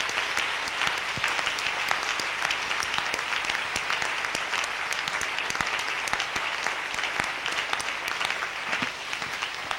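A church congregation applauds loudly and steadily for Jesus, dense clapping from many hands filling the room without pause throughout.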